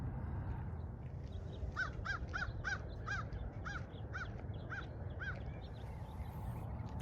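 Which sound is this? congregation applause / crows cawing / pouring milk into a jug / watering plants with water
crows cawing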